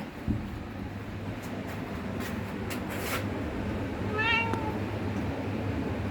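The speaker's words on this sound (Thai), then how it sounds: "จริงๆมันเป็นแมวฉลาดมาก" A cat gives a single short meow partway through. It is fairly faint and sits over a steady low rumbling background with no talk.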